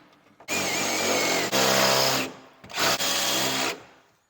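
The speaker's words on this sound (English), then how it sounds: "I'm just drilling through the top of each spot weld" A drill bores through spot welds on a steel panel, whining loudly in two close bursts of about two seconds and one second, with a short pause and a brief bump in between.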